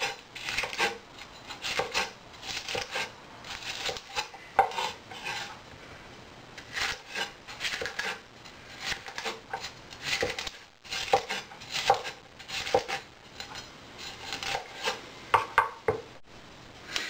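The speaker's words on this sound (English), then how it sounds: "just slice them, small strips, as I said before, 1/4 inch, a little more, a little less" A knife slices food into quarter-inch strips on a cutting board for a crab meat salmorejo-style dish, a string of quick, close rhythmic cuts and board taps in short bursts.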